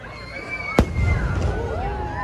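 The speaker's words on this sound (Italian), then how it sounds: "E ora ci sono i fuochi d'artificio." Fireworks bursting at night over an amusement park, Busch Gardens in the United States, with one sharp loud bang followed by a continuous low rumble and crackle, under a steady background of crowd murmur.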